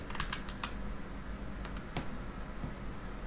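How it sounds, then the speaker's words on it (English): Keys clattering on a computer keyboard while texture files are edited for taillight mods in Need for Speed Heat: scattered clusters of quick, light clicks over steady background hiss, with no one talking. "We'll type the material"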